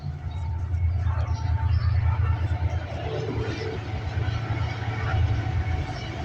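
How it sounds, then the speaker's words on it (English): A train rumbles past steadily nearby, a heavy low roar with faint rattling that stays loud throughout. "Excuse the train noise."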